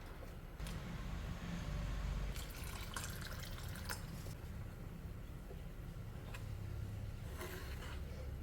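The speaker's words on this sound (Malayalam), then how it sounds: "മൺചട്ടിയാവുമ്പോൾ ഇരുന്ന് കുറുകയും അപ്പോൾ അതിൽ സ്വല്പം കൂടി വെള്ളം ഒഴിക്കാം" Water poured into a padavalanga chemmeen curry of snake gourd and prawns simmering in a clay pot, heard as a steady liquid wash with a few brief splashy bursts over a constant low rumble. No voices.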